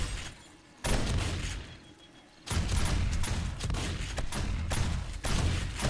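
Shotgun fire in 7 Days to Die during a Darkness Falls horde night, heavy booming blasts after a quieter opening, followed by further loud shots in quick succession.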